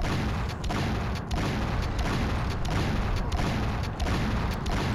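Sustained rapid gunfire against the Necrogiant boss in the video game Painkiller, a dense continuous barrage of loud shots with brief rhythmic gaps, no talking.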